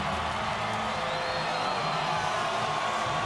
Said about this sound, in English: So this crowd is all revved up